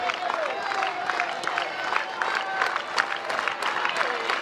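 Stadium crowd at a college softball game between UCF and Florida, rising to its feet with broad cheering and clapping, a steady roar of applause dotted with sharp claps and whistles.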